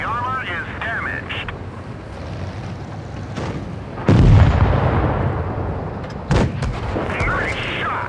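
Tank cannon shot from an M60 in World of Tanks Blitz: a sudden loud boom with a heavy low thump that decays over a few seconds, then a second sharper blast, with game noise and talk around it.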